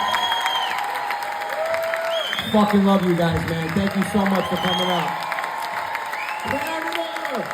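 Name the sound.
comedy show audience applauding and cheering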